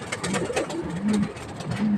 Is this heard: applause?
no